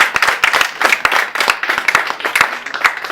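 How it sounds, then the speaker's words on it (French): Applause for the trainers at a workshop on drama writing and acting. A small group claps close by in quick, uneven bursts, with sharp individual hand claps standing out. "Applaudissez une fois encore pour eux."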